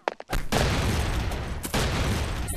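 A grenade is thrown and bursts in the blocky shooter Brick-Force, opening with a few quick clicks before a loud blast that rolls into sustained rumbling, with a second burst near the end.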